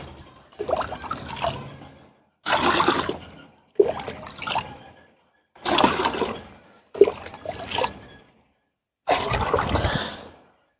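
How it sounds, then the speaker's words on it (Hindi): Water poured into a container of homemade fruit-peel compost fertilizer in six separate bursts, each a splashing gush followed by a short pause. "मैं इसमें दो लीटर पानी और मिलाऊंगा"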